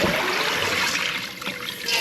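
Tap water running steadily and splashing while salted codfish is washed, a continuous loud gush that stays close throughout.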